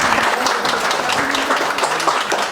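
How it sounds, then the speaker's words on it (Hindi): Audience applause for women at a Women's Day music event in the hills, loud dense clapping that runs unbroken for the whole stretch with faint voices mixed in. "एक बार जोरदार तालियां महिला दिवस पर महिला को।"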